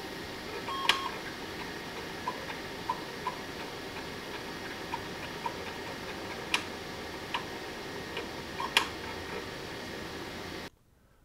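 Mechanical ticking from the read-write head stepper motor of an Apple IIgs disk drive: a steady hum with sharp clicks scattered irregularly, two louder, heard alone up close before the sound cuts out.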